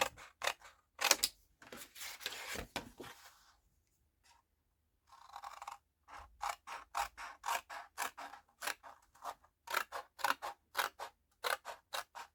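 Scissors cut paper for a small papercraft document holder, giving a close, crisp series of quick snips in uneven bursts separated by short pauses.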